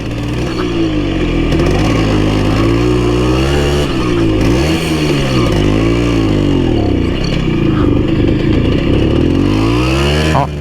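A Simson S51 moped engine runs steadily while riding, a loud close buzzing two-stroke drone with small rises and dips in pitch as the throttle is held, continuous throughout.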